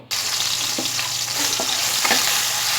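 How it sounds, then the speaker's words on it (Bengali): Prawns frying in hot mustard oil, giving a steady bright sizzle throughout with a few soft clinks and stirs, close and fairly loud, no voices. "চিংড়ি মাছটা দিয়ে দিয়েছি হালকা করে চিংড়ি মাছটা ফ্রাই করে আমি তুলে নেব"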